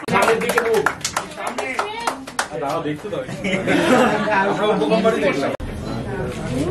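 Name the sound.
audience clapping at a film poster launch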